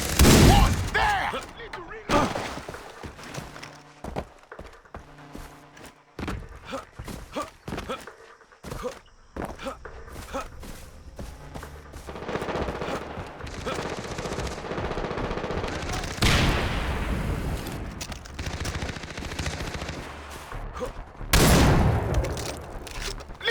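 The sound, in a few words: shotgun gunfire in video game Far Cry 3 multiplayer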